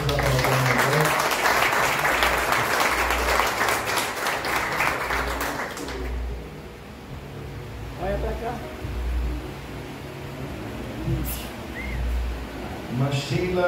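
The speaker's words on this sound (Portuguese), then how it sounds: "Vamos aplaudir a irmã." Audience applause at a graduation ceremony, a dense wash of clapping for about six seconds that then drops to scattered claps and room noise, with a low rhythmic thump and voices in the background.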